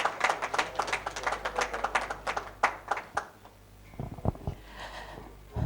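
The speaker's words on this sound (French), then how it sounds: "Encore sous vos chaleureux applaudissements, chers invités." Audience applause at an awards ceremony in Abidjan, a run of fairly close hand claps that thins out into a few scattered claps with a short lull between them.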